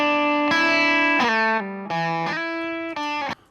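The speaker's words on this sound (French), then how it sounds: "Alors là, il y a une nouvelle guitare qui apparaît." Distorted electric guitar part with effects in a music mix, playing sustained chords that change a few times with brief stops between them, loud and alone.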